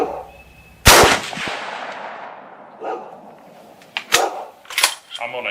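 A .30-06 Ruger American rifle firing custom handloads: one sharp, loud, close shot rings out near the start, followed by a few fainter, sharper cracks and clicks later on.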